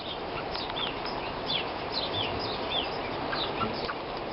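Dense, continuous chirping and peeping from a crowd of young birds, steady and close, with no talking.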